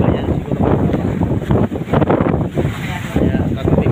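Strong wind buffets a boat out at sea as a storm approaches, with waves crashing and sloshing around the hull. A loud, continuous roar of gusts and surf carries through, with the microphone rumbling under the wind.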